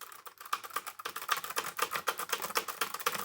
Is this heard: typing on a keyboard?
yes